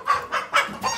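Rooster at a poultry auction giving four quick, evenly spaced clucks within a second, close and fairly clear.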